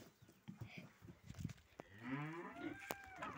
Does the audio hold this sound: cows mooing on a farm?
yes